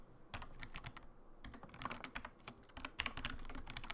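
Rapid typing on a computer keyboard in a quiet room, with dense bursts of clicky keystrokes running continuously and a brief pause near the start.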